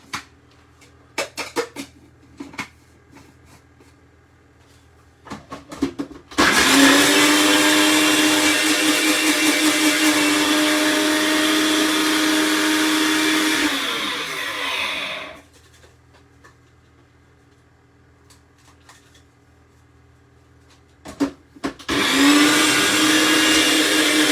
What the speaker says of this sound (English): Around 50 grams of this cheese going in here, and I'm going to just blitz this up